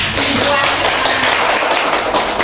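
Classroom of students clapping hands together, a continuous dense rattle of many claps, close and fairly loud, with faint voices mixed in.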